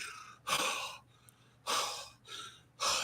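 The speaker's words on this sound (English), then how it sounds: "it looks weird to see him breathing hard with that mask on" A masked professional wrestler breathes hard after a match, with four loud, close, breathy exhales or gasps spaced roughly a second apart and quiet pauses between them.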